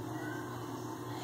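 A tiny kitten gives one faint, thin, drawn-out meow, a single soft cry in a quiet room.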